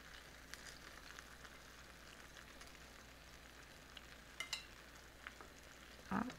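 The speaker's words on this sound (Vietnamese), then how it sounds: "Mình mới lấy mình bắt đầu mình chiên." Tofu cubes deep frying in hot oil, a steady low bubbling hiss running throughout with a few sharper crackles and pops near the end, fairly faint and with no voices.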